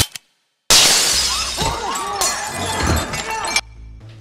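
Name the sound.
glass display cases being smashed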